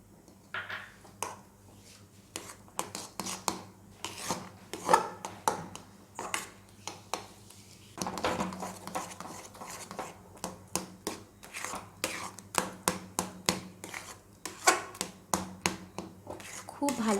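Milk powder gets stirred into a mashed palm fruit mixture for Bengali sweets, with repeated clinks and scrapes of a utensil against a pan, irregular and moderately close, while a voice talks in between.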